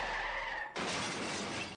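A truck crashes into a wall in an action film scene: a sudden loud burst of shattering and crunching debris cuts in after a quieter stretch and holds for about a second before stopping abruptly.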